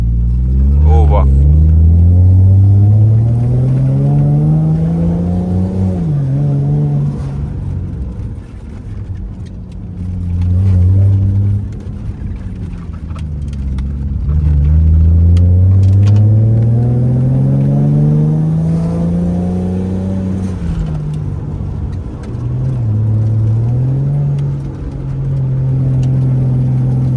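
An untuned Volvo car engine revs close by in repeated rising and falling sweeps, about four climbs over roughly half a minute, with a steady idle rumble between them.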